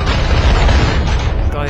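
A grenade explodes in the SpyHunter: Nowhere to Run video game with a loud, close, rumbling boom that fills the whole moment and slowly fades.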